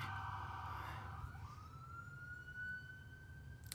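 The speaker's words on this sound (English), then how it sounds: "Ooh, I hear an ambulance." Ambulance siren passing outside, faint and distant, its wail sliding down in pitch as it moves away and then holding a steady tone over low traffic rumble.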